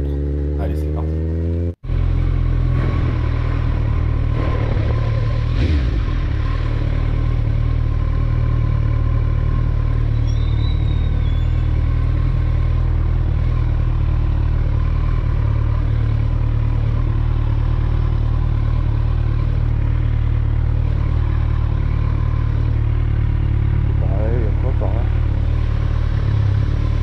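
Kawasaki ZZR1400 (ZX14R) sport motorcycle out on a ride, its engine droning steadily and loudly throughout with wind rush, after a brief cut near the start; a rider talks over it.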